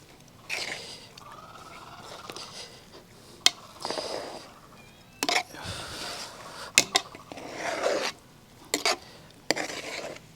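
Cooked kabsa rice being mixed in a metal vessel, with scraping and rubbing strokes and sharp clinks of a spoon against the pot, steady and close with short pauses, no talking.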